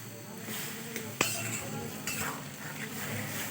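Boiled vegetables stirred into fried spices in a pan, with a steady soft sizzle, a sharp clink of a utensil against metal, and scraping stirs close by.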